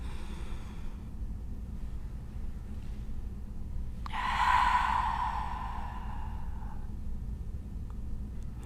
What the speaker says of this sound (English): we'll take 2 more breaths